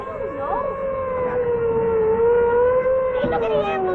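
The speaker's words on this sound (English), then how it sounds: "Hey, look at the ambulance." An ambulance siren wails loudly and continuously in a 1949 radio suspense drama, its rising and falling tone dominating, with some background noise underneath.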